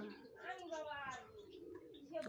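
Domestic pigeons in a loft coo softly in repeated rolling phrases, a low, close murmur with faint rustling and no talk.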